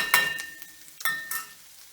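Chopped cherry tomatoes tipped into a hot pan for a quick fish curry, giving a few bright sizzling bursts with stirring scrapes between them, close and fairly quiet, with no talking.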